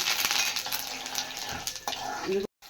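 Curry leaves and tempering spices, with chana dal already browned, frying in hot oil in a kadai: a steady, fairly loud crackling sizzle with stirring clinks, alone without talk, cut off by a brief gap near the end.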